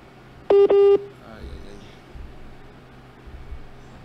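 After a radio phone-in call to a former senator drops, two short, loud telephone tones sound close together on the line, followed by faint line hiss and a few low thumps.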